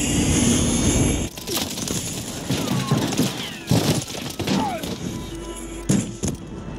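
A helicopter in a first-person shooter video game roars steadily with a whirring rotor drone, broken by sharp gunfire cracks and thumps throughout.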